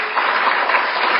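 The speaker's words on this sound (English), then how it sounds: "A round of applause" An audience at a community forum on gun control applauds, a short dense burst of clapping heard on its own.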